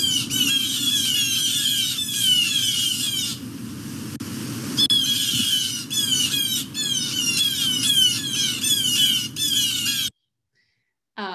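A flock of blue jays mobbing, loud harsh jeering calls overlapping in rapid bursts for about ten seconds, then an abrupt drop to near silence with a faint trailing sound at the end.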